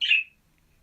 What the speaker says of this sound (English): And that's my bird replying.